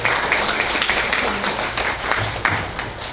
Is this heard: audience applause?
yes